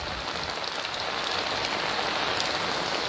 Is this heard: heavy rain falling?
yes